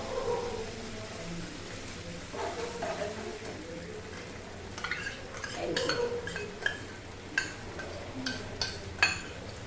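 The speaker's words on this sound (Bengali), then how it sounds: "পোস্ত বাটা দিয়ে একটু নেড়ে নেব।" Pointed gourd being stirred with a little poppy seed paste in a pan on a gas stove, soft scraping at first and then a run of sharp metallic clinks and taps from the spatula against the pan, with no speech.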